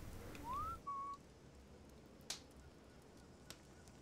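A short two-part whistle from a character in the Splinter Cell stealth game, a rising note then a held tone, followed by quiet ambience with a couple of sharp clicks.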